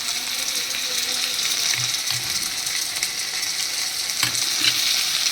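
Spices, including ginger, cumin and chili paste, fry in hot oil in a pan over a low flame for a rohu fish curry, a steady close sizzle with occasional scraping stirs.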